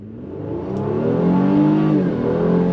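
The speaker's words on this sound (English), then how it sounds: "Let's go on throttle one more time." A 2024 Honda Pilot midsize three-row SUV accelerating hard under full throttle in normal mode, its engine note building steadily and loud from a low rumble to a strong rising drone, heard alone from inside the cabin.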